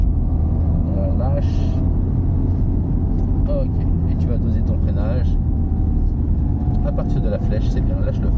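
A car engine rumbles steadily and close by inside the cabin during a driving lesson as the learner accelerates, with an instructor talking over the continuous low drone.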